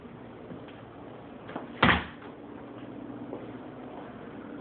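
A backyard door in a house in Lehi, Utah, opens or closes with a single solid thump and brief rattle midway, set against steady indoor background noise.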